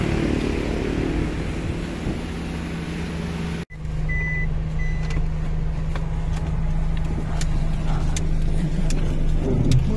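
Vehicles travel along a wide, lightly used road in Cavite: a steady, loud engine and road drone continues throughout, briefly dipping to near silence before resuming, with faint tonal beeps and clicks scattered over it.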